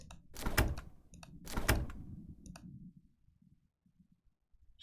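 A locked door being tried in a video game, two heavy rattling thunks with clicks from the handle, close and distinct, then fading into quiet.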